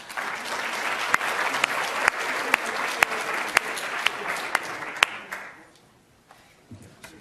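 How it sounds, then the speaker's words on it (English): A debate audience applauds steadily for several seconds with a few sharp individual claps standing out, then the clapping fades to quiet. "please give all four of them a round of applause"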